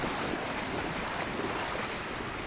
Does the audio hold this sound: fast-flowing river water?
yes